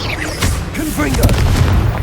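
A Confringo spell blast in Hogwarts Legacy booms amid heavy game combat, with a voice speaking over a dense layer of crackling impacts and low rumbling.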